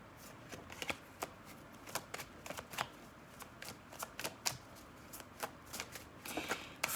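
Tarot cards being shuffled and drawn from a deck, close and quiet, with repeated crisp riffling snaps and flicks scattered irregularly over a soft background hiss.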